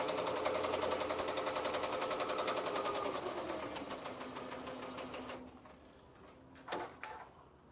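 An embroidery machine runs a tack-down pass for a 3D puff design: rapid, even needle stitching for about five seconds, then it stops, followed by a single mechanical clack.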